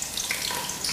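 Onion hitting hot olive oil in a pot, a steady, bright sizzle and crackle throughout with no voice.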